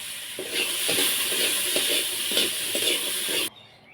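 Steady hissing sizzle of food frying in oil, with soft periodic scraping as it's stirred, then cutting off abruptly near the end.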